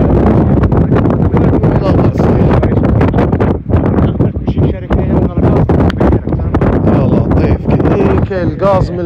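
Strong wind buffets the microphone in gusts during a wildfire in Tipaza, a loud, rough roar under continuous excited talk from several people.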